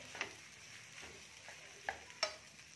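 Cooked macaroni being stirred through a spicy masala in a frying pan, with a few faint spoon scrapes and clinks spaced apart over a low, quiet background.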